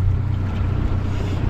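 A boat motors steadily across open water toward Chambers Bay on a barramundi fishing trip from Leaders Creek, its engine a constant low drone with wind rushing over the microphone and no voices.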